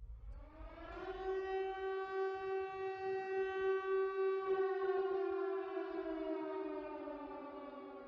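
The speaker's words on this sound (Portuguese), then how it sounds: "a maldita sirene que anuncia a chegada do outro mundo" A Silent Hill siren from a video game rises into a long, mournful wailing tone that holds steady, then slowly falls away, alone and fairly faint.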